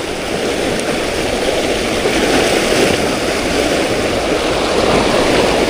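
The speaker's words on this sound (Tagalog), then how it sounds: "lakas ng agos, oh, grabe" Strong water rushes through a tunnel where fishermen cast nets. It makes a loud, dense, continuous roar from start to finish, with no voices heard.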